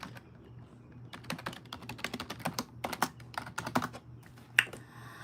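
A password is typed on a computer keyboard, with irregular clusters of sharp, close key clicks and short pauses between them over a faint low hum.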